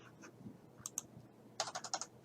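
Keys clacking on a computer keyboard while typing Korean text and pressing the hanja key, a few isolated taps followed by a quick burst of about six keystrokes, quiet and close.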